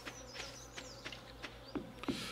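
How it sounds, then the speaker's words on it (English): Soft buzzing of bees around flowers in the Stardew Valley video game, faint repeated short hums with a gentle continuous drone under them, no voices. "We can hear the bees buzzing around the flowers."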